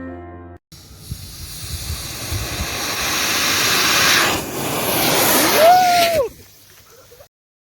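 A Stark 2 rocket engine with a converging-diverging nozzle fires on a test stand, a loud close roaring hiss building for several seconds with a rising whistling tone near the end before cutting off abruptly.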